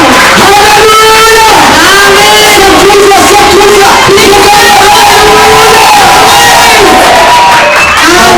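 A church congregation at a Kinyarwanda worship service cheering and shouting loudly and continuously, a dense roar of voices with whoops running throughout.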